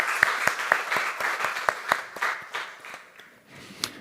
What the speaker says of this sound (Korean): 하나님께 감사와 영광의 박수 올리겠습니다